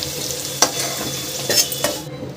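Potato pieces frying in oil in a kadai, a close, steady sizzle with a few sharp scraping stirs of a spatula against the pan.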